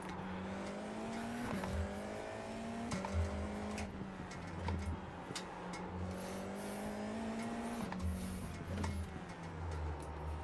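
Formula 4 race car at Winton Motor Raceway, engine droning steadily from the cockpit while the tires lock up under braking, with pitch dips and brief scrubbing bursts through the run; no speech.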